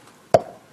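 A voice imitates a hammer driving a nail into a board with a single short, sharp knock, alone and fairly faint.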